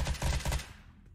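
A short burst of rapid gunfire in the zombie survival game Karantiin, several quick shots in a tight rhythm fading into a brief tail, fairly quiet and with no talking.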